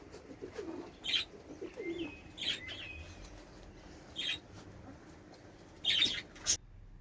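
Pigeons in a farm enclosure give several short, separate coos and chirps at irregular intervals over a quiet background, fairly close but soft.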